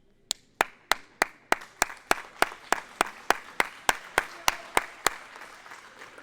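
Applause for injured handball player Ilias rising from the court in a French youth handball match: about eighteen sharp, evenly spaced hand claps ring out one by one, steady and fairly close.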